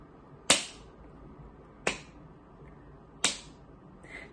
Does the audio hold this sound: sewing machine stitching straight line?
no